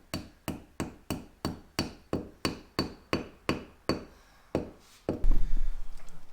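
A hammer taps a wall anchor into a hole drilled in a concrete garage wall, about eleven evenly spaced sharp metallic strikes, close and loud, followed by a brief ringing clatter.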